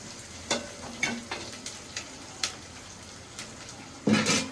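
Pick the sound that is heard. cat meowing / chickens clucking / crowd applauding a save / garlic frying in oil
garlic frying in oil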